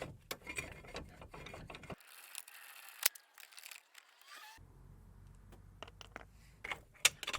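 Ratchet clicks and metallic taps come in short bursts while a brake caliper bolt is removed from a 2003–2009 Jaguar X-Type. Close, bright clatter is broken by brief quiet gaps, and nobody speaks.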